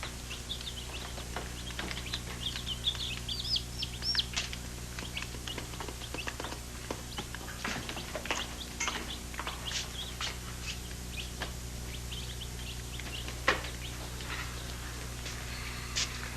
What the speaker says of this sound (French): Des poulets vivants.